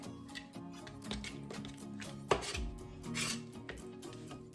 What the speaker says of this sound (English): I definitely wanna try to cut as much of the fat off the meat as I can